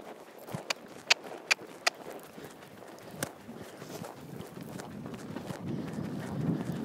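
Foxy, a horse being ridden at a trot in a riding arena, with a few sharp hoof strikes early on, then softer, steady footfalls and rustling that blend into a low, continuous background.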